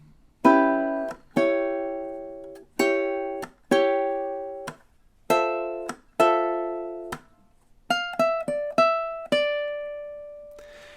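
Ukulele strums a bossa nova rhythm through four measures, crisp chord hits in a syncopated pattern with short gaps, ending on a sustained ringing chord; no voices.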